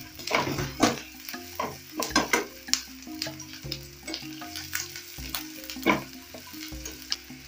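Ginger frying in a pan for fish curry, giving an ongoing sizzle broken up by repeated scraping and stirring against the pan, close and fairly loud with no one talking.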